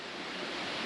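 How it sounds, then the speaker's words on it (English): The Coban Rondo waterfall roars as a dense, steady rush of falling water, loud and continuous with no voices. "Oh, look at that. That's a big waterfall."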